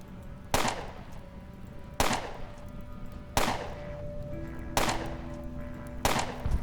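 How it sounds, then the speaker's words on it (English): Five evenly spaced single gunshots in the Underrail video game, sharp loud cracks about one and a half seconds apart, each with a brief decaying tail over a steady low hum. "Let's take some shots at this guy."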